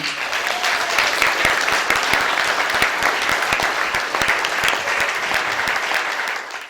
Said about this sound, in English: a big round of applause to City Council for getting this done